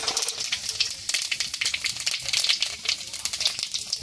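Cumin, ajwain and asafoetida crackle in hot oil for a vegetable momo filling, making a loud, dense and steady sizzle with fast popping bursts close up. No one speaks over it.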